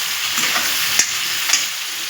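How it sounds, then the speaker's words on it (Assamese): Onions and tomatoes frying in hot oil in a pan, a steady bright sizzle with a few soft stirring knocks and scrapes, close and without talk. "পিঁয়াজখিনি ধুনীয়াকৈ গোল্ডেন কালাৰ হোৱাৰ পিছত এতিয়া ভাজি ল'ম বিলাহীখিনি"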